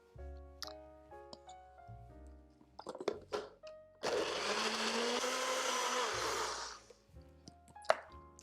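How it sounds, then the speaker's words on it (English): A blender pulverizes dates and sesame seeds into a sauce. A few knocks and clicks come first, then a loud, steady whirring grind for about three seconds before it stops, followed by a couple of light clunks. "now we're just going to blend this up until those dates are completely pulverized, and also the sesame seeds"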